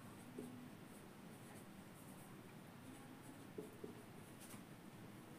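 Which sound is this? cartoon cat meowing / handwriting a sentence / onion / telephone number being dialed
handwriting a sentence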